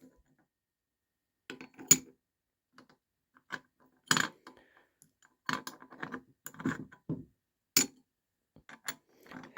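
A metal tool handling the hot cast iron burner caps of a tiny wood stove, sparse sharp clinks and scrapes in an irregular rhythm, close and clear against near silence, with no talking.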